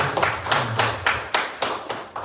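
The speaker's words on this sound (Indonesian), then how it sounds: "Tepuk tangan buat Bu Siti." A school audience at a state senior high school in Garut claps for a teacher, a steady round of hand claps with rhythmic bursts, loud and close, without talk.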